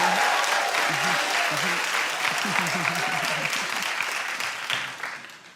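An audience claps in a sustained burst of applause that slowly fades, with some voices underneath.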